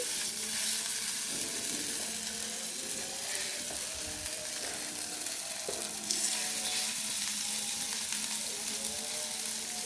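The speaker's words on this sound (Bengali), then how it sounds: "আবারও বড়াগুলো দিয়ে দিচ্ছি। এবার ভাজলে কিন্তু আমাদের বড়া ভাজা শেষ।" Bengali fritters (bora) fry in hot oil, giving a dense, close sizzle that runs steadily throughout, with light stirring and scraping noises mixed in and no talk.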